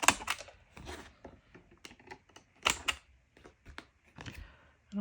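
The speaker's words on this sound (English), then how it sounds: "Should be able to punch here with my corner rounder and get the corners rounded." A handheld corner rounder punch clicks through paper corners with several sharp snaps and crisp rustles, close by, alongside quiet, intermittent handling noise.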